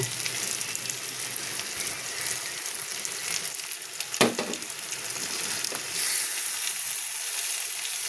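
A ground paste of cashews, raisins, poppy seeds and almonds sizzling in a hot pan for a home paneer curry, a steady crackling fry with a sharp burst midway as more goes in, then stirring.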